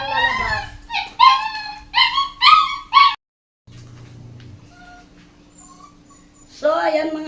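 Dogs whimper and yelp in rising, wavering cries during bath time at home, several whines in a row, then a short silence before another howling whimper returns.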